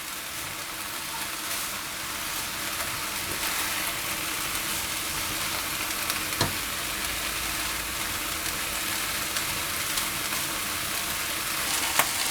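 Shredded cabbage for spring rolls fries in a hot pan, giving a steady, close, even sizzle with light crackle for the whole stretch and no voices.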